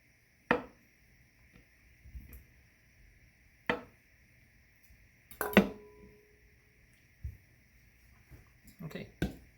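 Food is mashed in a small bowl in a home kitchen, giving sparse scattered knocks and clacks of utensil on bowl separated by quiet gaps.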